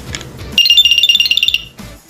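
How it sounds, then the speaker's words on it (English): A GSafe 5-in-1 safety alarm, which also works as a pepper spray and stun taser, gives a quick run of bright, evenly spaced electronic chime beeps after its side button is pressed, loud and close with no talk. "To turn it on, simply press the side button once and you'll hear a chime sound."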